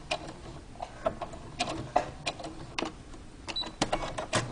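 A sewing machine backstitches a fabric mask in short, uneven bursts of quiet mechanical ticking and whirring, close and faint, with no voices.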